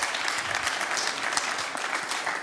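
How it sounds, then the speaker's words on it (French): Audience applause at the Nice Climate Summit, a brief steady patter of many hands clapping, moderately quiet and somewhat distant, even throughout with no voices over it. "On peut applaudir."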